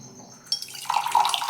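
Water poured from a glass into a cooking pot holding one and a half measures of rice, a steady splashing pour that begins after a brief quiet moment and grows fuller and louder toward the end.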